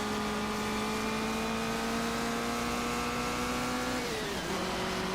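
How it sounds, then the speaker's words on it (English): BRM racing car engine in a 1958 Formula One racing simulation at the Moroccan Grand Prix: steady high-pitched engine drone held at constant revs, then a quick pitch drop as it shifts or lifts, loud and continuous, no talking. "Listen to that BRM."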